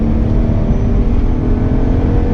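A race car accelerating out of a corner at Bedford Aerodrome, a loud, steady engine drone that holds close and strong throughout the short stretch, with no talking heard.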